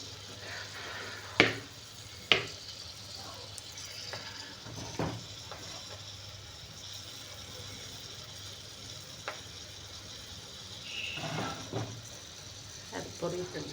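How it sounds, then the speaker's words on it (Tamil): Garlic frying in a pan gives a soft continuous sizzle, punctuated by sharp clatters of a spoon against the pan, while a person talks over it. "அது பொரியுதுங்க."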